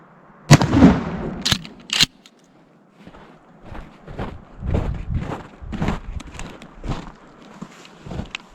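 A Tac-14 shotgun fires number 3 buckshot at a 15-yard target outdoors, sharp loud blasts ringing out near the start, followed by softer shuffling, footsteps and handling noises.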